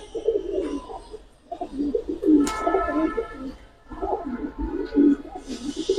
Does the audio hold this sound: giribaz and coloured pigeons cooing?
yes